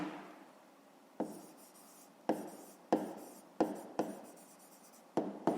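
Writing down a fifth-grade math exercise solution, with pen or chalk strokes in close, quiet taps and scratches, several separate strokes each fading quickly, spaced about a second apart with no talking.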